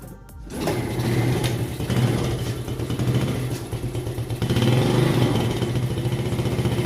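Yamaha Jupiter Z motorcycle engine, smoking heavily after being kick-started, runs close and loud with a rapid pulsing putter and clatter after a brief quiet start, wavering slightly in speed throughout.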